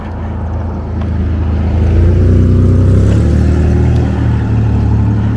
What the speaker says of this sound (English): That truck needs a new exhaust system. It's loud.